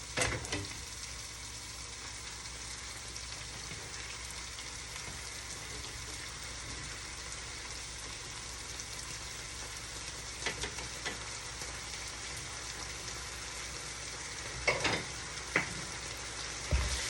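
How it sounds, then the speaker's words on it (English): Steak sizzles and fries steadily in a pan, a dense crackling hiss throughout with a few louder pops near the end. "Everything is getting loud over here, y'all. It's getting loud."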